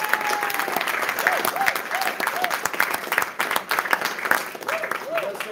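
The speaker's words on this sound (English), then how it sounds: "can I just ask for a warm round of applause for Ronan for organizing it?" Warm audience applause at a Fitzpatrick clan gathering: a dense, steady wash of many hands clapping that holds through the whole stretch, with voices talking faintly underneath.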